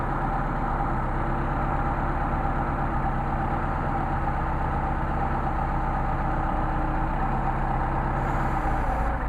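A Mercedes 190SL engine fitted with Solex carburetors idles steadily and close by, its low, even rumble holding without letup from start to finish.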